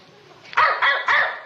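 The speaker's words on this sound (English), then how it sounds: "he starts every other dog in the neighborhood to barking" A dog barks three times in quick succession, sharp and fairly close, in a neighborhood at night, with short pauses between the barks and faint background hum.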